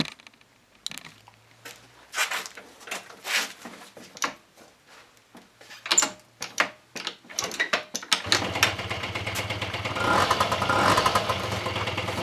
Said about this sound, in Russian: Двигатель мягко работает, без каких-либо других лишних звуков.